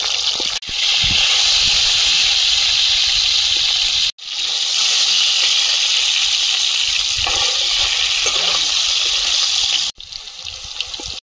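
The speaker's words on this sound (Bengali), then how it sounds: "আলুগুলো ভেজে নেব।" Potatoes frying in hot oil in a wok, a loud, close, continuous sizzle broken by a couple of brief cuts, with no voices.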